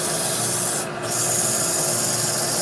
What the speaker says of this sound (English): 15 guys watching Rob sand